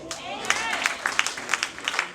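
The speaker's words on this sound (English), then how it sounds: "A big hand clap to the Lord." Congregation at a church service giving a hand clap, with sharp individual claps standing out over a crowd murmur and someone speaking briefly at the start.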